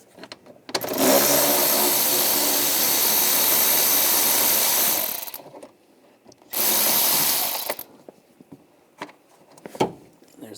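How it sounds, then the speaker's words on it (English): Power ratchet with a 10mm socket spinning out bolts on a GMC Sierra 1500 during a radiator fan job, two loud sustained whirring bursts of several seconds each, then quiet clicks and handling noises. "I'm going to take the bolts out on the side."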